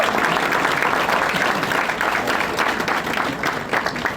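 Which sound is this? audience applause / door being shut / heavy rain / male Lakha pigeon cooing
audience applause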